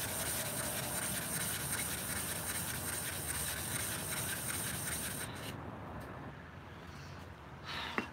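A steel blade rubs steadily against a coarse natural sandstone sharpening stone, a continuous gritty scraping that holds close and even for about five seconds before thinning out, with brief faint scuffs near the end.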